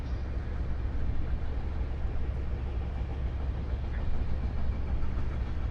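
Steady low rumble of a Class 70 freight train rolling along in a video game, a continuous droning roar with faint rail noise, no voices.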